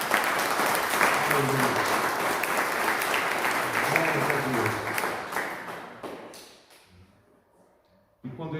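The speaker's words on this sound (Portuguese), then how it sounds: "se expresse e aplauda o Senhor" Sustained church congregation applause and clapping during a sermon, a preacher's voice calling out over it, fading away near the end before another burst starts.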